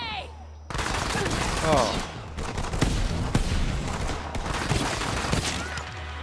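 Borderlands 3 gunfire, dense rapid bursts of automatic shots that keep going for several seconds with brief pauses, loud and close, a short exclamation from a voice near the start.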